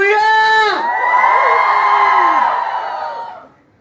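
A crowd at a public event cheers loudly, led by a long, high shout that rises, holds and then fades out.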